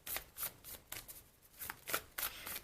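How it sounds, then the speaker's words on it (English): Oracle cards from the Wild Offering deck being shuffled by hand during a tarot reading, a run of quick papery riffling bursts about every quarter second, close and fairly quiet, with no voices. "now I'm going to pull you some Wild Offering Oracle cards"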